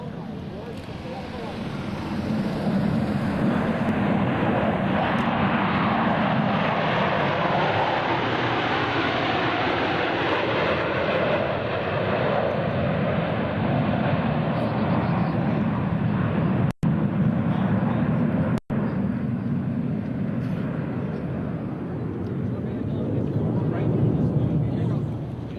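An F-14 Tomcat jet passes at a naval air station airshow as a long, loud, roaring jet rush that swells and shifts in pitch for about twenty-five seconds, with crowd or announcer voices mixed underneath.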